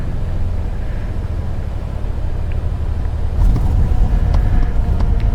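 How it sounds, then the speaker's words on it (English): Cessna 172 wheels rolling on the runway after landing in Microsoft Flight Simulator 2020, a steady low rumble with the engine droning beneath, growing slightly rougher and louder partway through. "Even the wheels sounds great, doesn't it?"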